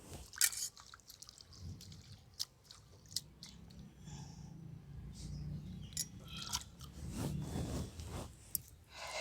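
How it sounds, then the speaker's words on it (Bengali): Fresh coriander leaves being rinsed and rubbed by hand in water, giving close, uneven wet crackles, drips and soft crunches that run continuously with brief louder bursts. "এই ধনে পাতাগুলোকে বেটে নেব ধুয়ে নিচ্ছি ভালো করে"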